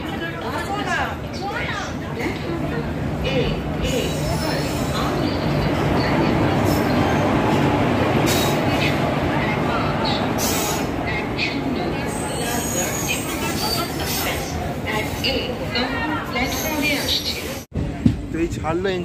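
A train pulling out of New Jalpaiguri (NJP) station rumbles steadily and loudly, with continuous rolling noise and clatter.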